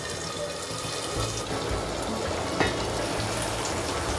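Tomatoes for an onion-potato curry cook in a covered pan with a continuous soft sizzle and bubbling hiss, plus one brief clink partway through.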